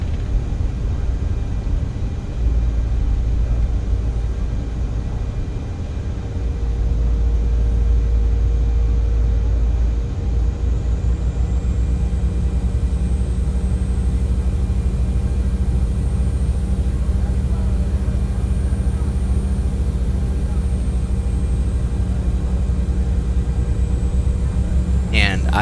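A CRJ 900 regional jet back-taxiing on a runway at a small Bahamas island airport, heard from the cockpit as a steady loud engine drone and rumble with a faint rising whine, continuous throughout.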